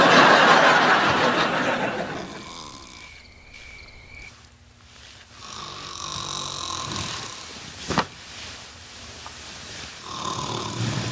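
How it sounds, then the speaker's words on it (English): A man snores loudly in a sitcom garage scene, a long rasping breath tapering off, then a sharp snort and renewed snoring; no talk over it. "stop snoring"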